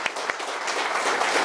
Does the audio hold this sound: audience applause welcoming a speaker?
yes